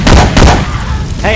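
Two quick loud shots of Syphon Filter weapon fire in Left 4 Dead 2, followed by a brief game voice line.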